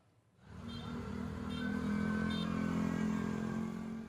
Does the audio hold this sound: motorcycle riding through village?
yes